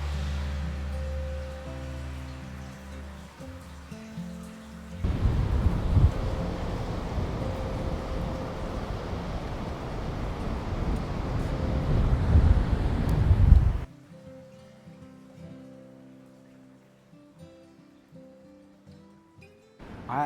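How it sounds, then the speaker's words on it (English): Strong wind buffets the microphone on a beach at sunrise, a loud roaring gust in the middle that blends with crashing surf, then drops to a quieter wash of waves. "I absolutely love a windy, wavy day at the beach"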